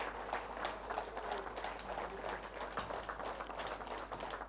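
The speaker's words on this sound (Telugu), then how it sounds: "ఇంత అద్భుతమైన ధ్యానానికి ఒక్కసారి గట్టిగా చప్పట్లతో కృతజ్ఞతలు తెలియజేసుకుందాము" Sustained applause from a meditation gathering audience, dense steady clapping from many hands filling the room, fairly even in level throughout with no voices over it.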